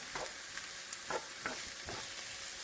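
Vegetables sautéing in a skillet for Philly cheesesteaks, a constant quiet sizzle with a few soft stirring scrapes spaced about half a second apart, close and low in level.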